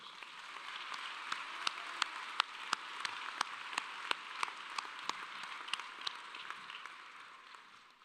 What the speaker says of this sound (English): Can we please give them all a big round of applause?